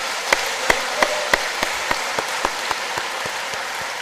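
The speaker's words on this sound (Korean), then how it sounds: "감사하는 마음으로 한번 격려 박수를 한번 하겠습니다" A church congregation claps in encouragement for its choir during a Sunday service: about a dozen distinct, evenly spaced claps that ring out sharply at first, then thin and soften toward the end.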